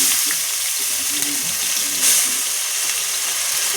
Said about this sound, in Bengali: পেঁয়াজটা ভাজা হয়ে এসছে প্রায়